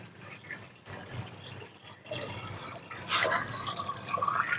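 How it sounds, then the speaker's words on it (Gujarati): Jaggery water poured into a jivamrut mixture, a steady liquid splash and trickle of moderate loudness that grows fuller toward the end. "આ જીવામૃતની જે પ્રોસેસ ચાલુ છે એની અંદર આપણે ગોળનું પાણી ઉમેરીએ છીએ"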